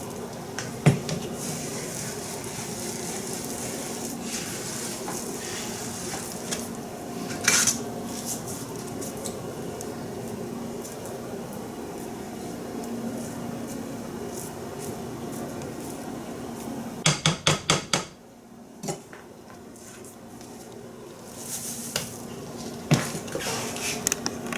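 Quaker oats being stirred into a thick flourless monster cookie dough, with soft scraping and occasional sharp clinks of a utensil against the bowl, close and steady under a low room hum.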